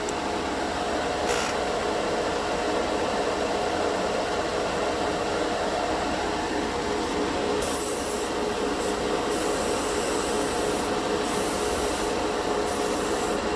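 An airbrush spraying paint, fed by a small portable air compressor, gives a continuous loud hiss with a steady mechanical hum beneath it. The hiss shifts slightly midway as the air flow is turned up.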